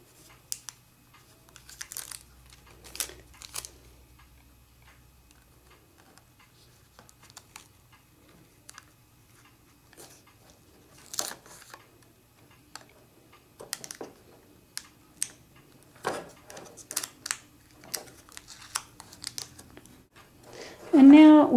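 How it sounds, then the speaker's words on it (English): Office tape pulled, crinkled and pressed down onto a small motor, giving scattered soft crackles and tearing bursts at close range over a faint low hum, with brief sparse speech. "Next, I'm going to do it the same thing to the other side using office tape down here."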